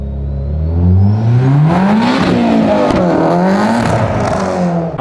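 A car engine, just repaired after a fuel pressure increase, revs hard and close, its pitch climbing and holding in loud sustained roars with a clattering edge, alone.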